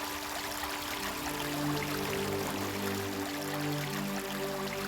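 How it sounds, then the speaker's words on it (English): Creek water flowing steadily beside a forest trail, a constant close rushing and babbling wash that stays even throughout with no voices. "You've got this lovely creek next to you."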